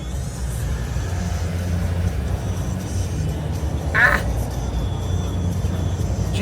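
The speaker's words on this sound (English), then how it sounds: "Of course we're in more traffic." Steady low rumble of cars in road traffic heard from inside a moving vehicle, an even droning hum with a brief higher chirp partway through.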